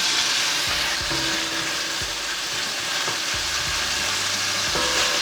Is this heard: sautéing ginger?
yes